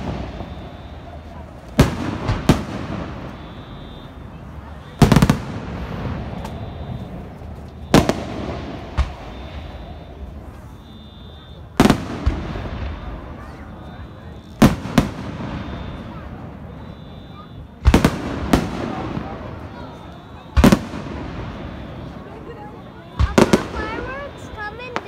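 July 4th fireworks booming about ten times over a long stretch, each a sharp loud burst trailing into crackle and rumble, while a person talks throughout.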